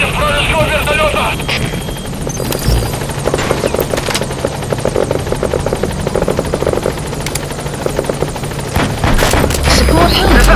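A military helicopter in the Metal Gear Solid 5 video game drones loudly and steadily throughout, with bursts of gunfire and booms cutting in and radio voices talking over it.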